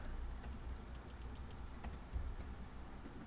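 Steady typing on a computer keyboard, a quick run of close, soft key clicks filling the short moment with no talk.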